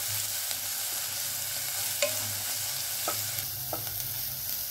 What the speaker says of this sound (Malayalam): ഒരു ഗോൾഡൻ കളറോ ബ്രൗൺ കളറോ വരെ നല്ലോണം വഴറ്റുക.